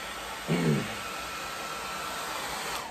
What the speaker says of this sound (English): the blow dryer just does wonders for it.